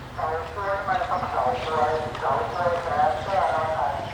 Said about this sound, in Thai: ฟังเสียงเฉาก้วยดิ